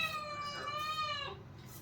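A house cat meows in a long, loud, drawn-out call with a wavering, whiny pitch close by, tapering off toward the end, with no talk over it.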